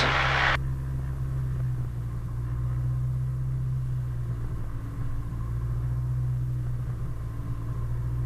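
A Diamond DA40 aircraft engine holds a steady 2000 RPM run-up, a loud constant droning rumble heard from inside the cabin with no talk over it.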